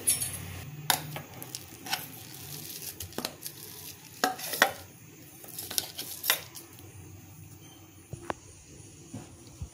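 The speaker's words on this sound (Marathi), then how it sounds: "आता मी ह्याला एका भांड्यात काढून घेतेय।" Coarsely ground chole is scraped out of a mixer jar into a bowl, with irregular clinks, knocks and scraping of a spoon against the vessels, some sharp and close, with no talking.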